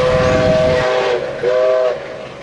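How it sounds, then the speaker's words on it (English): A passenger train, locomotive 5917 hauling the Kiama Picnic Train, rumbles past platform 2 at Heathcote station with a loud, steady roar, and a horn sounds in two long blasts with a short gap between them. "We have 5917 with the Kiama Picnic Train passing platform number 2"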